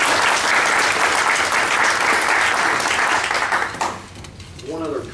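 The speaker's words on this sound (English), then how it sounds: "Let's give them a round of applause" Audience applause at an evening community meeting, steady dense clapping from a room of people that fades near the end, with a voice briefly starting up as it dies down.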